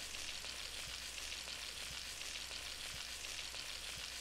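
Garlic butter shrimp with chili flakes sizzles steadily in a pan while being stirred, a soft continuous frying hiss with faint occasional scrapes and no talking.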